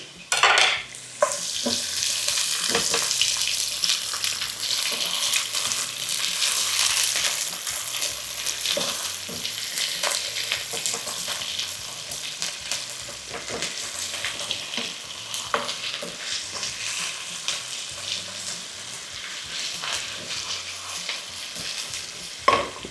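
Garlic and onion fry in oil in a pan for pasta, a dense close sizzle with frequent stirring scrapes and utensil clinks against the pan, loud and continuous for the whole stretch.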